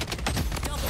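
AK47 gunfire in the mobile shooter Blood Strike: a few quick, punchy shots in rapid succession, loud and close, with a voice partly mixed in over the brief burst.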